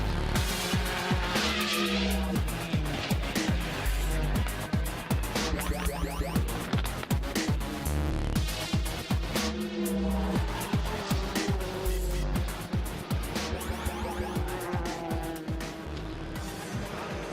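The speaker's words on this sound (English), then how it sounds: "A huge crash." World Touring Car Championship race cars from the 2013 season in a heavy crash, with screaming engines, tire squeal and skidding mixed with sharp impacts, loud and sustained with rhythmic pulsing engine notes throughout.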